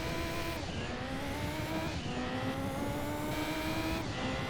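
A race car engine in Gran Turismo 2 drones steadily and loudly, its pitch climbing through gear changes with brief dips between shifts, a continuous synthetic roar with no voices.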